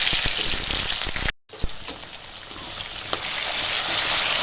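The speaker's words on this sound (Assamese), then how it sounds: "আলুখিনি কম জুইত আধা ভজা কৰি ল'ম।" Potatoes fry in hot oil with a loud, steady sizzle, broken by a brief silent gap before the crackling resumes with a few sharp pops.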